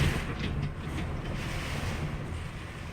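Strong typhoon wind during Typhoon Jebi in the Kansai region of Japan roars as a steady, loud broadband rush with no breaks, heard from a sheltered corner outdoors.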